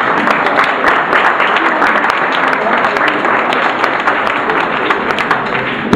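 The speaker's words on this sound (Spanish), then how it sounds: "así te aplaudimos" A live audience applauds at a radio show event, steady dense clapping filling the whole stretch at close range, with no break and only faint voices mixed underneath.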